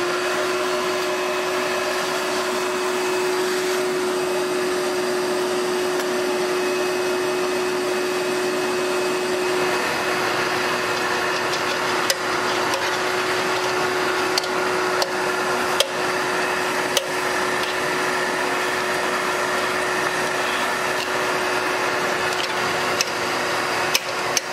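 A vacuum cleaner sucks debris from the cooling fins of a 1974 Power King tractor, a steady whining roar with a constant high tone and occasional small clicks and ticks as material is drawn in.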